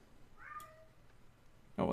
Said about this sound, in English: Oh, and there goes my cat.